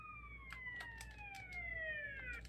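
Ambulance siren from GTA San Andreas on PS2, two wailing tones sliding steadily downward together over a low rumble, with faint sharp clicks scattered throughout.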